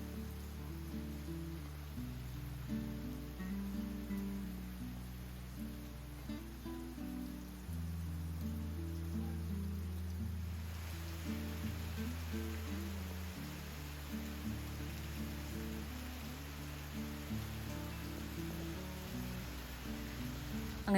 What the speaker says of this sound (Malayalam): അതിൻ്റെ കൂടെ പുറത്ത് നല്ല മഴയും ഉണ്ട്